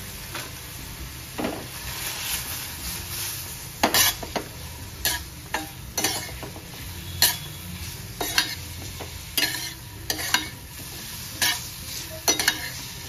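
Paneer cubes are sautéed with turmeric and chili in a pan, a soft sizzle running underneath as a utensil scrapes and taps the pan in sharp, irregular strokes every second or so.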